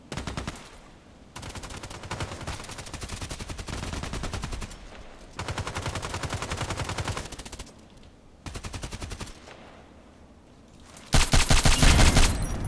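Rapid automatic gunfire from the online shooter Contract Wars comes in several long sustained bursts separated by brief lulls, with a louder, denser burst of shots at the end.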